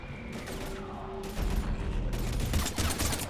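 Heavy gunfire and explosions in the video game Mass Effect 3, a dense continuous barrage of shots and mechanical clatter, loud and close.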